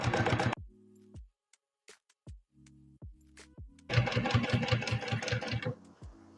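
A sewing machine stitches bias binding onto fabric for a placemat, starting with a short burst, then pausing for a few slow single stitches and clicks, then running steadily and loudly up close.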